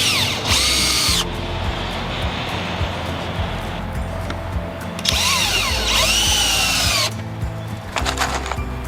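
A power drill drives screws into 3-foot wooden boards while a raised garden bed is built, with two loud whirring bursts that rise and fall in pitch, separated by a quieter stretch of handling noise.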